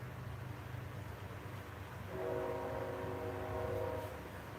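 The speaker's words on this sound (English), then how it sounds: "Oh, do you hear the train coming through?" A train rumbles past at a moderate distance, a steady low roar that swells partway through with a sustained tonal horn-like whine layered on top, heard alone without talk.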